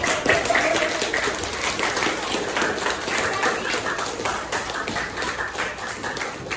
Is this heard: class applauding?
yes